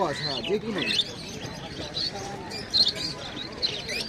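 Budgerigars chirp and tweet in short, busy bursts at the Serampore animal and bird market, with talking mixed in over a noisy, crowded background.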